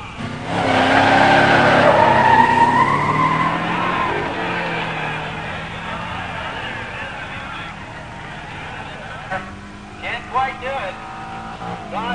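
A 1970 Challenger T/A 340 Six Pack four-speed and a 1987 Buick Grand National launch in a stock drag race, with loud revving engines, rising gear-change whines and screeching tires, fading as they pull away, then faint honks and voices.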